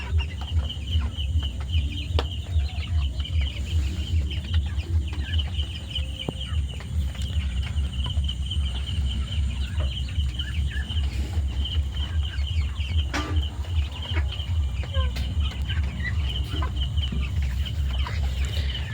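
Tiger chickens on a farm cluck steadily and close by, a dense flock with overlapping calls and an occasional rooster crow over a constant low background hum, with no talking.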